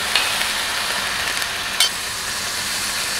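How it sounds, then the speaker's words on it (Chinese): Beef rolls with scallion and ginger stir-fried in a hot oiled iron wok give a steady sizzling hiss, with a couple of brief scraping clinks of stirring and no talking. "铁锅烧热加油，下葱姜，肥牛卷，"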